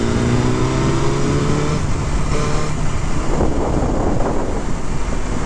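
A 2023 BMW S1000R sport motorcycle revs steadily and loudly up close, a strong continuous engine roar blended with heavy wind rush, with no talking.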